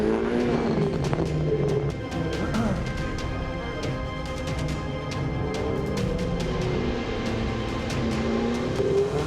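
Ferrari Challenge race cars in the Trofeo Pirelli race at Le Castellet roar through a rolling start lap, a steady dense engine drone with repeated passing surges and gear changes, no voices.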